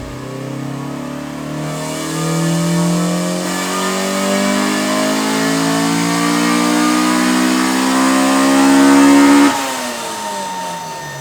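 Honda engine on a dyno during tuning, revving into VTEC in one long pull as the pitch climbs steadily to a loud peak, then drops sharply as the throttle closes; close and continuous.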